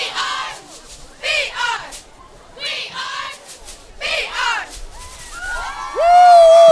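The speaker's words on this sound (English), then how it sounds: "they're going to lead us off with the cheer" A high school football team shouts a group cheer at a Thanksgiving Day game, Brockton at Bridgewater-Raynham. Several loud bursts of massed voices come in rhythm, and a sustained high yell closes the clip.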